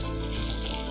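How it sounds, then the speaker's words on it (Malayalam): Basmati rice fries in hot oil, giving a steady, dense sizzle that fills the short moment with no pauses. "എണ്ണയിലിട്ടിട്ട് നല്ലോണം ബസ്മതി റൈസ് നല്ലോണം ഫ്രൈ ആയിട്ട് വരണം"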